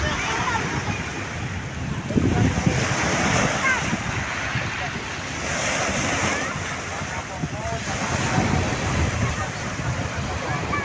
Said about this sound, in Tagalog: Medyo malakas ang alon ngayon.